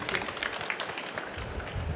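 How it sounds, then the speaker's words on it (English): Audience applauding after a talk on integrated hydrogen production and fueling for heavy-duty vehicles at a conference, a brief burst of scattered clapping from a modest crowd, moderately close, with no speech over it. "One more warm applause for him."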